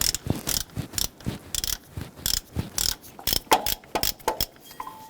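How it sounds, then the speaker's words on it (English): A ratchet snugs down the belt tensioner bolt on a 1994-2004 Ford Mustang 3.8L, producing close, crisp bursts of clicking in an uneven back-and-forth rhythm. "We can come on back with our ratchet and we'll snug that down."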